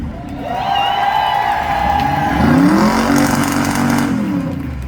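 A race car engine roars loudly at high revs during a burnout contest, its pitch climbing and shifting, with the left rear tire squealing as the wheels spin in place.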